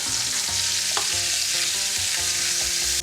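Chicken sears in a hot pan for Cuban arroz con pollo, a loud, steady frying sizzle with occasional small pops and spatters, close and uninterrupted by talk.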